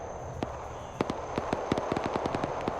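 Gunfire in a military video game: a scattered series of sharp, cracking shots, some isolated and others in quick clusters, heard at moderate distance over a steady background hum.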